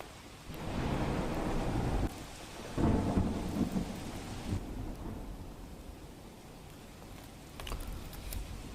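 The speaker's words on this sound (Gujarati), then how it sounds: "આજે દક્ષિણ ગુજરાતમાં ભારે વરસાદ વરસી રહ્યો છે" A dense wash of heavy monsoon rain in Navsari, South Gujarat, pours steadily, swelling louder at moments and easing toward the end, with no voices.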